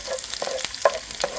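Garlic fries in plenty of oil in a pan, a close, steady sizzle with occasional sharp pops and crackles.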